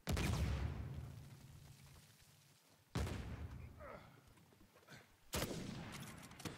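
Three sharp sniper gunshots in Uncharted 4 multiplayer, each a loud crack spaced a few seconds apart with a booming tail that fades out.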